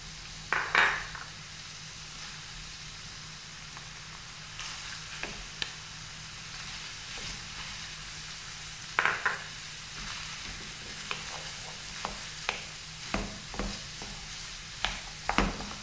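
Bell peppers frying in a pan for a crepe filling, a steady low sizzle with occasional sharp clinks and scrapes of a utensil stirring against the metal, close and without talk.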